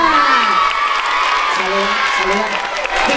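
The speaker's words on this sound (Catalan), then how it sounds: "Un aplaudiment per la Cristina!" Audience applause and cheering ring out at a spring festival event in Sant Josep, a steady crowd roar honoring Cristina with a voice talking over it.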